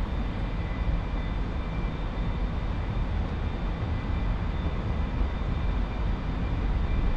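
An A-4E-C jet in the DCS World video game takes off, producing a loud, steady engine roar with broad rushing noise and a faint high whine, constant and close throughout.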